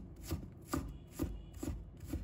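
Knife mincing fresh ginger on a cutting board: five evenly spaced, crisp chopping thuds about half a second apart, close and fairly quiet, with no talking.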